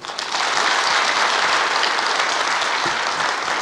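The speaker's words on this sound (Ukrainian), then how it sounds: "Ваші оплески" Audience applause greeting a film director at a cultural event in Chernivtsi, a dense, even wash of clapping from a full crowd, sustained without pause.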